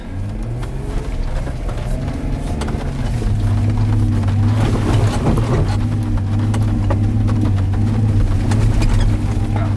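Jeep engine straining in low range up a soft sand dune in the Simpson Desert, loud steady droning that builds as speed rises, with wind buffeting the microphone.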